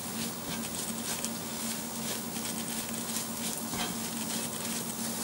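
Curry leaves hit hot oil in a pan while making egg puffs, giving a steady, close crackling sizzle with fine spattering pops that holds evenly throughout, with no voices.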